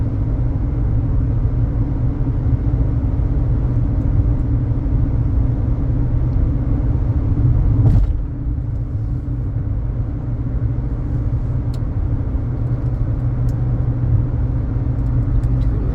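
A 2015 Buick Encore cruises along the road, giving a steady, smooth interior rumble of tires and engine that dips slightly about halfway through, with no one speaking.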